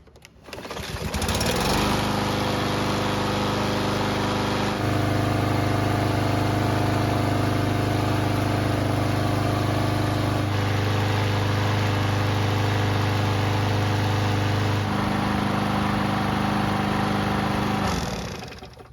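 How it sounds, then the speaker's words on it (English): A Yard Machines lawn mower engine starts and runs at a steady, loud, buzzing idle for about fifteen seconds, with slight shifts in pitch, then cuts off abruptly. "we'll start the mower and make sure we didn't mess something up"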